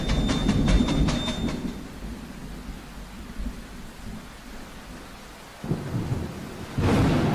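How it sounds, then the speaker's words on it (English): A thunderstorm with wind and pouring rain, heavy rumbling thunder and steady rain hiss that eases, then swells again with fresh loud bursts near the end. "the wind started to blow and the rain poured down"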